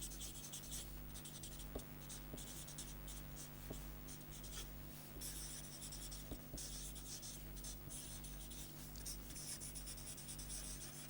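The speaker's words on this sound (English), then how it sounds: "So, let us write that down." Chalk or marker strokes on a lecture board, a quiet run of scratchy, intermittent writing sounds with short pauses between strokes, heard alone in a fairly still room.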